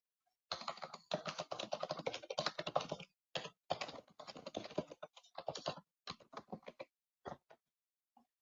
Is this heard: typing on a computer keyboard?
yes